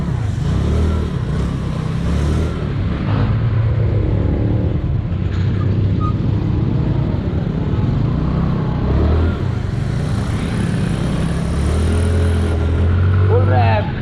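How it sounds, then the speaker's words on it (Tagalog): A stock motorcycle engine is revved at full throttle, a loud, continuous roar that stays strong throughout with voices talking over it. "Stock engine, full rev."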